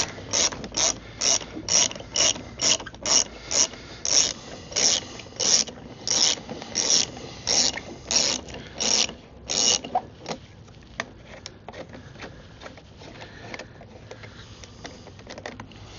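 A ratchet wrench loosens an exhaust bolt on a Kawasaki ZX6R Ninja motorcycle, giving a steady run of close, crisp clicking bursts for about ten seconds before fading to quieter scraping and handling noises.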